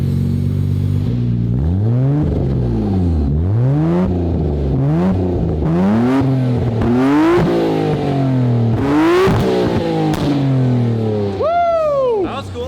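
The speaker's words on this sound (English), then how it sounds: "here's a quick clip for you guys of the new exhaust system" A loud Lamborghini Huracán engine with a new exhaust system revs repeatedly, pitch sweeping up and falling back in a rhythmic series, with crackling pops from the exhaust between blips.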